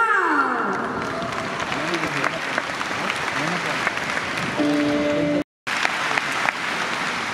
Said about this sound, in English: Keep that applause going, ladies and gentlemen.